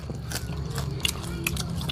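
Crunchy fried frog is bitten and chewed up close, a few sharp crisp crunches over a couple of seconds against quiet background noise.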